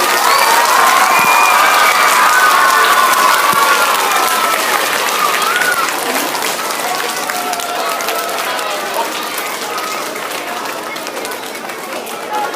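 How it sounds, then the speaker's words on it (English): Student audience at a school Lighthouse Team inauguration ceremony cheers and applauds. The crowd noise is loud at first, with some high voices calling out, then fades slowly over about twelve seconds. "Congratulations, let's give them one big round of applause."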